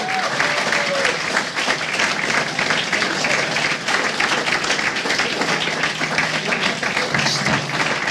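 At a StarCraft 2 esports event at IEM Cologne, a crowd keeps up sustained applause and cheering while a caster talks over it.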